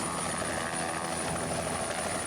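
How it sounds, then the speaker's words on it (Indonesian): A helicopter giving sightseeing flights over the city of Tangerang drones steadily in a continuous rotor and engine roar, evenly loud throughout with no voices. "pengunjung juga bisa merasakan terbang naik helikopter berkeliling di atas kota Tangerang"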